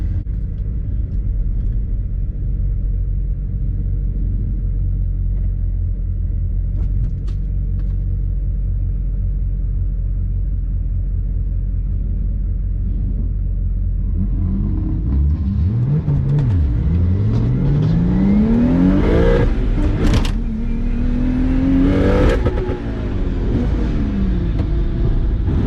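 A big-turbo BMW 135i with the N54 engine rumbles at idle at a race track, then accelerates hard with rising, revving engine tones that climb through the gears, loud and close with no talking.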